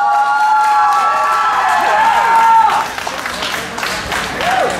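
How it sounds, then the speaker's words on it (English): An audience at a school battle of the bands in Rochester, Minnesota claps and cheers for a band, with shouts and whoops rising over the clapping before it thins out near the end. "Let's give a big round of applause for Tito."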